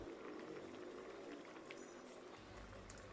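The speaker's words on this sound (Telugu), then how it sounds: "పులుసు ఈ విధంగా మరుగుతున్నప్పుడు" A pot of koyyinga fish pulusu curry simmers and bubbles faintly and steadily, a quiet continuous gurgle with no talking.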